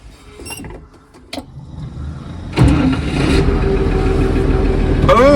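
A car engine cranks and catches after its antifreeze was warmed on a winter day, then settles into a loud, steady run that continues to the end, following a few quiet mechanical clicks and creaks.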